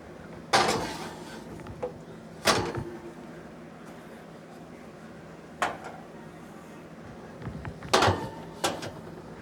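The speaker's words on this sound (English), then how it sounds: "So we'll just be sticking this back in the oven here." Zucchini boats go back into a home kitchen oven, with a few sharp clanks of the metal pan and the oven door clattering, spaced out over a quiet room hum.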